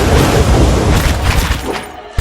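Missile explosions in the fantasy role-playing video game Pillars of Eternity, a loud close boom with a rumbling, crackling tail that fades before a final sharp hit.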